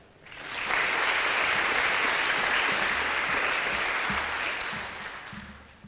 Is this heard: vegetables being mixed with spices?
no